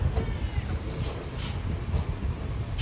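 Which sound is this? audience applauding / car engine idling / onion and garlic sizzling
car engine idling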